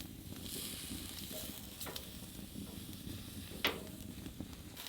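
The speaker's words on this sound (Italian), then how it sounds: "Sì, frigge." Sausages sizzle on a grill at a winter mountain bivouac in Val Grande, a steady soft crackling hiss with a few sharper pops and clicks near the microphone.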